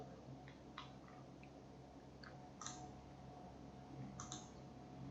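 A computer mouse clicks on an OK button in structural-design wind-load software, giving a few faint, sharp clicks over a steady background hum with no speech.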